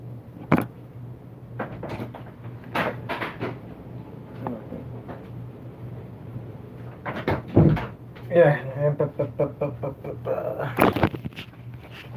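A household door is opened and closed with a few knocks and a latch clatter near the end, heard among intermittent speech and room noise.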